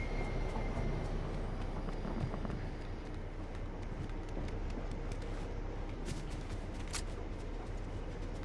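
A train passes in the Fortnite Chapter 5 Season 2 game, heard as a steady, dense rumble with clattering texture that holds for the whole stretch at moderate level, with no talk over it.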